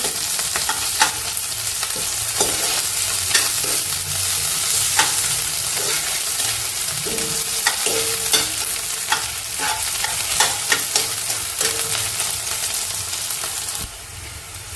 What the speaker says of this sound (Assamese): তাৰপিছত অকণমান লৰাই দিছোঁ আৰু পিঁয়াজখিনি ভাজ খোৱালৈকে